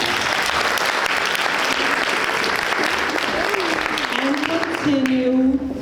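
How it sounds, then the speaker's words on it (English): Sustained audience applause fills a graduation ceremony hall, dense and loud throughout, with a speaker's voice rising over the clapping near the end as it begins to fade. "that deserves a round of applause"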